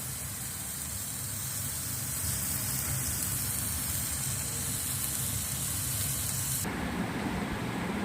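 Helencha leaves sizzling steadily in a frying pan, a loud continuous hiss like spray that drops in intensity near the end, with no talk over it.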